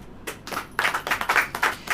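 A church congregation claps hands together during a Hindi sermon, a dense burst of rhythmic applause that starts softly and swells into a steady, moderately loud patter.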